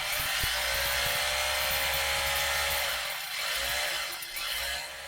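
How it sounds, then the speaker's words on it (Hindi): A large electric drill machine runs steadily with a loud, high whining buzz and a low motor hum, close by and without talk, the pitch dipping slightly near the end. "ये बड़े साइज़ की ड्रिल मशीन है"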